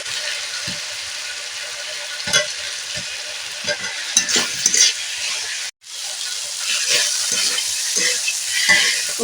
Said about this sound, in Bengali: মশলা ভাজা হয়ে গেছে এবারে দিয়ে দেব এই আলুগুলো